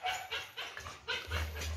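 Several dogs from a household pack bark and whimper in a yard, a series of close, moderately loud yips and barks with no talking.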